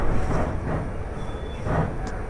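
A Kashi Express passenger train pulls away from the small Ugrasenpur railway station in India, giving a steady, close rolling rumble with slow swells as the wheels pick up pace, with no voices.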